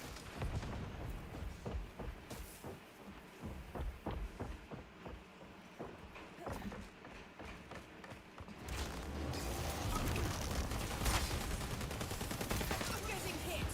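Video game combat with bursts of gunfire and a grenade going off, rapid sharp shots in the first half, then a rumbling, noisier blast-like stretch, with voices speaking over the action.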